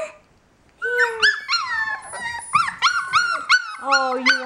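Three- to four-week-old puppies give a close, loud run of high whimpers, yips and short barks, overlapping in quick bursts after a brief quiet start.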